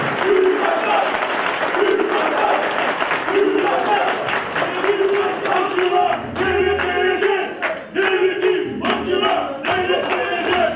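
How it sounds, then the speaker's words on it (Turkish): Crowd applause at a political iftar dinner, loud clapping mixed with rhythmic chanting and cheering voices, sustained throughout with brief dips. "Bir güçlü alkışla alalım Sayın Vekilimize."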